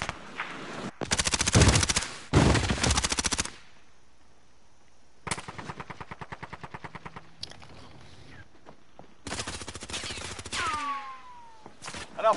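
Gunfire in a PS4 video game: loud bursts of automatic fire separated by short pauses, with a long stretch of rapid repeated shots in the middle and a final burst that trails off into a ringing tail.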